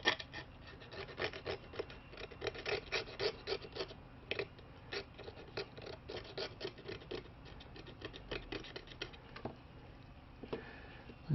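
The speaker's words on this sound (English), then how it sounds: "See if I can scrape some of that off with this" Old glue residue being scraped off an original Nintendo Game Boy part during a screen repair gives close, rapid rasping strokes in quick uneven bursts, heard alone with no talk.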